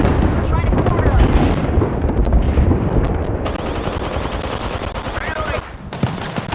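Firefight in the video game Apex Legends: loud, rapid automatic gunfire rattles almost continuously, with heavy booming blasts beneath the shots, before easing off slightly near the end.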